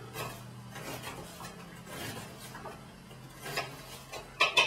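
Sharp kitchen knife chopping straight down onto a cutting board, soft scattered taps and clicks at close range, faint and irregular, ending with a few sharper knocks.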